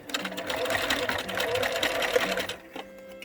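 A sewing machine stitches along the edge of a fabric face mask with a pipe cleaner tucked inside, running steadily and close for about two and a half seconds before stopping.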